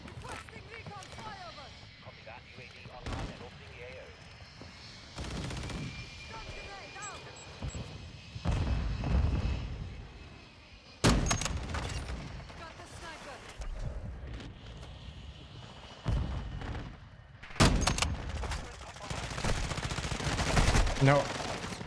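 Signal 50 sniper rifle in Call of Duty: Modern Warfare 2 firing several single heavy shots spaced seconds apart, each a sharp loud crack with booming tail over quieter game ambience.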